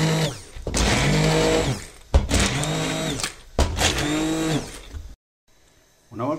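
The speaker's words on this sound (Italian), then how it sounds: "vado a frullare con un frullatore a immersione" An immersion blender purees cooked carrots and onion in three long whirring bursts separated by short pauses. A quiet gap follows before a faint final burst.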